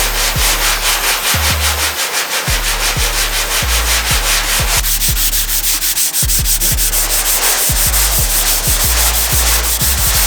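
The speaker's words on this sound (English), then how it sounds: "So I'm going to start with 220 grit sandpaper and then we finish it off with 400." Block sanding a Toyota car body panel with 220 grit sandpaper, a loud, close, rhythmic rasping of quick back-and-forth strokes continuing steadily throughout, no voices.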